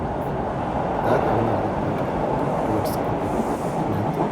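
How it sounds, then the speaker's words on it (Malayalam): A subway train rumbles into a station in Canada with a loud, continuous low roar filling the space, steady throughout, with faint clanks above it. "അതേ ഗൈസ് ട്രെയിൻ എത്തി. ഇവിടെ ട്രെയിൻ എത്തി."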